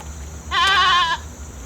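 A goat gives a single clear, wavering bleat lasting about half a second, close and fairly loud, over a quiet outdoor background.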